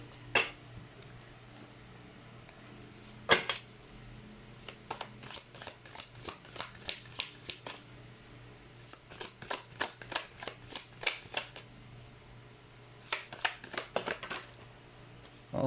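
A deck of tarot cards shuffled by hand in repeated riffling bursts, crisp flicking clusters separated by short pauses, close and quiet.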